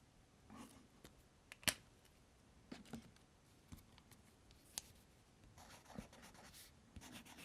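A pen scratches across paper in short strokes and scribbles, quiet and close up, with small taps and pauses between the bursts of writing.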